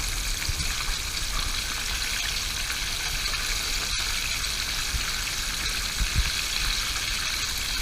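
A whole yellowtail snapper fries in hot oil, giving a steady, dense sizzle and bubbling hiss that holds evenly throughout, close and fairly loud, with no voices.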